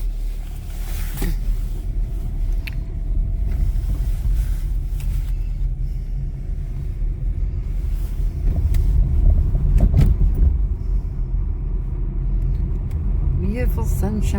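Steady, continuous road rumble inside a car driving to church on a sunny day, a loud low engine and tire drone throughout with no break.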